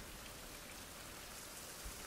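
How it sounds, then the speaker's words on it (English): Rain falls in the survival video game Fountain of Youth, a constant, soft, even hiss that fills the whole stretch without any speech. "Oh, and it's raining, so I may actually hit stuff, too."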